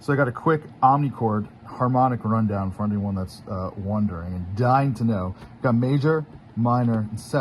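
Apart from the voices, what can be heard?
No distinct noise like a dog, phone or traffic.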